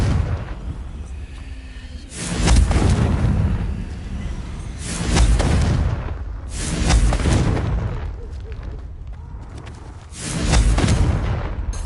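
Repeated Confringo fire-spell blasts in a Harry Potter wizarding video game, four loud booming bursts arriving every few seconds, each swelling and trailing off over a low rumbling background.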